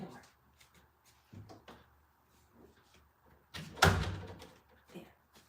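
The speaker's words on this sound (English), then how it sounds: "I'm just going to close my door." An indoor door is shut with a single loud thud partway through, surrounded by quieter room sounds and a few soft knocks.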